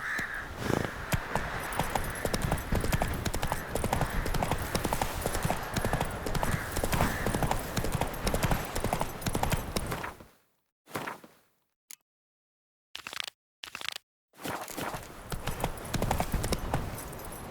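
Roach the horse galloping in The Witcher 3: Wild Hunt, a rapid, steady clip-clop of hooves over a loud rumbling background, briefly cutting out into near silence and short bursts before the hoofbeats resume.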